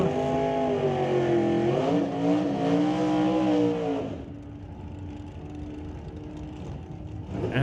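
Two drag-race cars, a 1970s dragster and a Datsun, launch and roar down the strip with loud rising engine revs for about four seconds, then fade to a lower, distant rumble.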